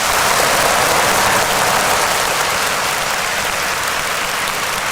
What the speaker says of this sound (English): Another bit of applause.